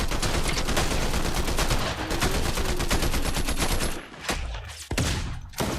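Fortnite gunfire rattles in rapid, continuous automatic bursts, loud and dense, then breaks off into a few separate shots near the end.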